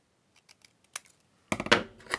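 Scissors snip through small handmade paper labels to cut them in half, a few faint crisp snips followed by a louder burst of rustling paper and cutting close up.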